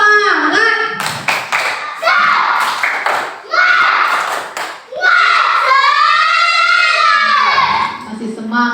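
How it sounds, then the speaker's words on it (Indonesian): A primary-school class of children does a rhythmic cheer, clapping in patterned bursts and chanting together in a classroom, with loud voices and a teacher's prompt mixed in. "Tepuk semangat."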